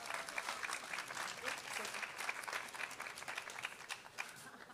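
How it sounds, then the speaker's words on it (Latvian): Sustained applause from an audience at a European Parliament Ambassador School youth event in Latvia, dense steady clapping filling the whole stretch without a break. "Lūdzu, aplausus!"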